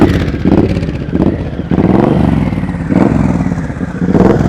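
A motorcycle engine runs at low speed during slow-riding practice, pulsing as the throttle is worked in repeated blips and surges with a loud, close, uneven mechanical clatter.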